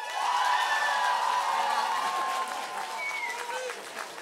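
An audience cheers and applauds for a performance of a song, with clapping, whoops and crowd noise, while voices are also heard.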